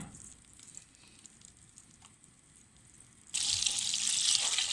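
Margarine melting in a pan makes a faint low sizzle, then a sudden much louder hiss bursts in partway through and holds steady to the end, close and without voices.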